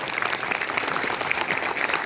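An audience claps together in a dense, steady burst of applause that lasts throughout.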